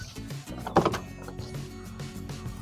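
Door of a 2009 Toyota Vigo Smart Cab Prerunner opening, a brief mechanical clunk and latch rattle close by, quiet overall with no talk.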